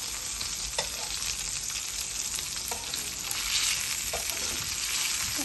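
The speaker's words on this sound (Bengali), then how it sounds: "আমি সবসময় কম তেলের মধ্যে ফ্রাই করি" Food frying in a small amount of oil gives a continuous close sizzle and hiss, with occasional soft taps and spatters scattered across it and no talking.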